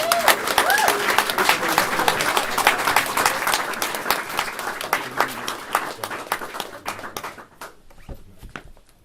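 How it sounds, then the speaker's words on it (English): Audience applause welcoming Professor Gus John, Khadija and Anisha to a talk, a dense, steady round of clapping that thins out and fades over about nine seconds, with a voice briefly heard at the start. "please let us, with a big round of applause, please welcome Professor Gus John and alongside Khadija and Anisha"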